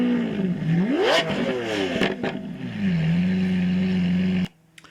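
A Maserati sports car engine revs hard, its pitch climbing and falling through several throttle blips before settling into a steady loud drone, then cutting off abruptly near the end.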